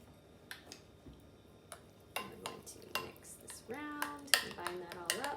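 Spoon clinks against a bowl as celery seed is stirred into a homemade salad dressing, a run of light metallic taps and scraping that quickens toward the end, with a voice speaking over it.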